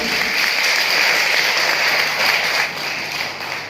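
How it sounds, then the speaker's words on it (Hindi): An audience at a speech event in Udaipurwati claps loudly and steadily, a dense, unbroken wash of applause that eases only slightly near the end. "एक बार जोरदार तालियां इन लोगों के लिए, जोरदार तालियां।"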